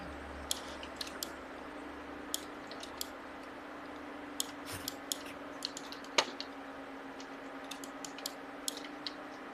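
Faint scattered pops and crackles in the distance over a steady low hum, irregular bursts like far-off fireworks.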